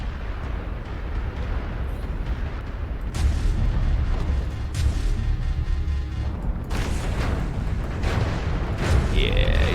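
Heavy, booming weapon fire striking a player's mech in MechWarrior Online, loud rumbling impacts and blasts over a constant low mechanical drone, with the heaviest hits arriving midway and near the end.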